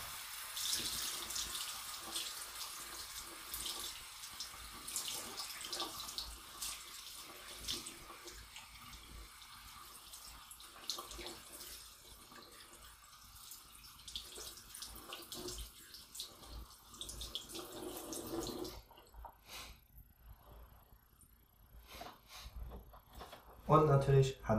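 Lukewarm water runs steadily from a tap while hair conditioner is rinsed out, a soft, fairly faint splashing flow under a speaking voice, then it stops and a few louder handling noises follow.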